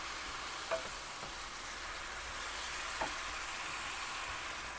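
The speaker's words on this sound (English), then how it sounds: "we're going to add in a can of diced tomatoes. These are fire roasted" Fire-roasted diced tomatoes from a can go into a hot pan, giving a quiet steady sizzle with a couple of faint stirring clinks.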